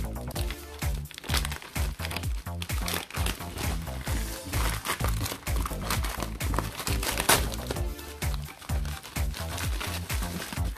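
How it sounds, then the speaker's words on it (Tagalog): Thick plastic packaging with bubble wrap crinkles and crunches loudly and continuously close by as it is unwrapped by hand. "Of course, may bubble wrap."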